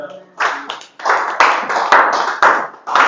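A congregation claps in praise during a French-language service, in loud rhythmic bursts of hand claps that repeat steadily, with a few voices faintly beneath.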